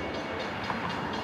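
Passenger train of the 400 line rolling along the tracks, a steady mid-distance rumble with faint rhythmic rattling of the cars, continuous and fairly quiet with no voices.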